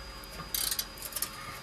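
A 14mm socket ratchet works a tight bolt on a Citroen C1 during a catalytic converter swap, giving two short bursts of quick, faint metallic clicking over a quiet background.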